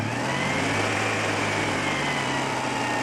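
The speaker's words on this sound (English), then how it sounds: "Of course, it's going to have high idle. That's normal." A Citroen 2CV's carbureted engine idles high after a cold start, keeping up a steady, even buzzing drone that stays constant throughout with no voices over it.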